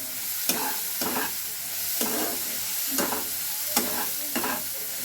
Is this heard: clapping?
no